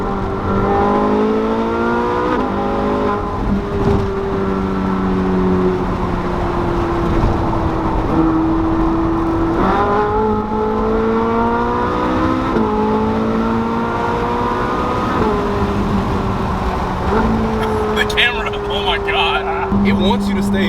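Ferrari 458 Spider engine revving hard while downshifting, with repeated stepped pitch jumps as gears drop, loud and sustained from the cabin, someone talking over the engine note.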